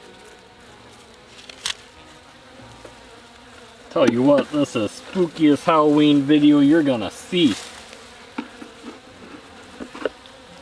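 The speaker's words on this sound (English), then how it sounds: "The bees are not happy with me." Honeybees buzz in a low, continuous drone around a hive at midnight while someone talks over them for several seconds.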